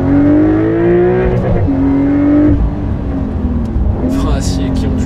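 A rear-mounted Porsche 911 engine revs hard through rising gear pulls with short shift breaks, loud and close from inside the cabin, while someone talks over it.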